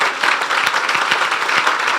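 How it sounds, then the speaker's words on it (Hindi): A church congregation claps loudly and steadily during a Palm Sunday service, with dense crowd applause and distinct sharp claps sustained without pause. "यीशु के जलाल के लिए जोरदार ताली"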